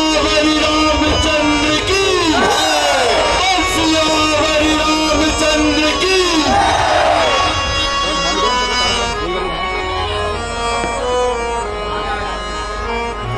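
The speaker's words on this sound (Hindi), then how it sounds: "देखो कितना ज्यादा भीड़ लगी नीचे" Large crowd gathered at an evening Ramlila performance in Nainital during Dussehra, a loud continuous hubbub of many voices mixed with music and amplified sound from the stage.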